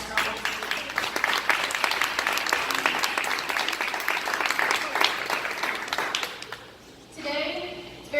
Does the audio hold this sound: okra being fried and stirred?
no